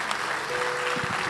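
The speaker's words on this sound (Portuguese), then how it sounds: "E a igreja aplauda o Senhor Jesus." A church congregation at a Sunday service applauds, a dense, even wash of many hands clapping together at moderate distance, fairly faint and continuous.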